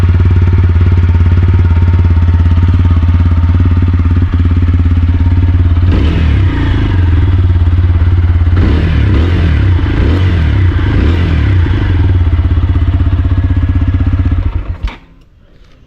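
A TVS Apache RTR 4V motorcycle engine idles close by with a loud, steady thrum, revs rise and fall through the middle, and the engine then cuts off near the end.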